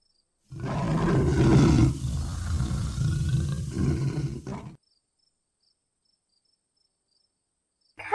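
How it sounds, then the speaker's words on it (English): A jaguar lets out a deep, rough roar that swells and rumbles for about four seconds, loud and close, then stops into silence. "jaguar,"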